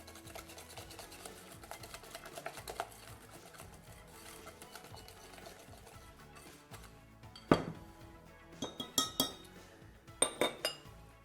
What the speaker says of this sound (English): you're just gonna mix it till it's nice and smooth